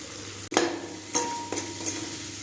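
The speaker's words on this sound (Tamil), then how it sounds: "பச்சை வாடை போகிற வரை வதக்கிக்கலாம்." Turmeric, chili powder and coriander powder sizzle and crackle steadily in a hot pan, with a few brief scrapes as they are stirred, close and moderately loud, no voices.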